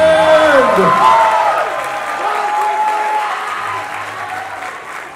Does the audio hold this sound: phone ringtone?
no